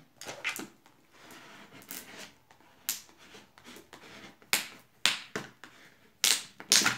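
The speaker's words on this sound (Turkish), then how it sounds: "Giden hava kabarcıklarını çıkardığı sesler." A hardcover book is pressed by hand during binding, squeezing out trapped air in a series of faint crackles and sharp little pops, irregular and close, with no talking.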